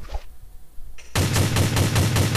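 Rapid automatic gunfire from a weapon in an Android first-person shooter game, a loud continuous burst of evenly spaced shots that starts suddenly after a short quiet stretch and runs to the end.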